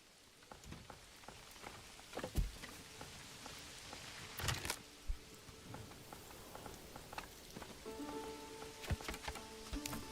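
Steady rain patters across a medieval village in the game Manor Lords, a soft continuous wash of droplets, with scattered sharper taps and brief clicks on top.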